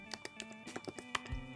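Keys tapped on a computer keyboard while entering a web address, a quick irregular run of close, light clicks with a few heavier strokes near the end.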